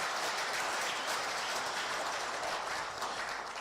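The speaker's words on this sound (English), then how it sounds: "So let's give another round of applause to all our audience." An audience at an International Customs Day ceremony gives a round of steady, dense applause that holds at an even level throughout with no talking.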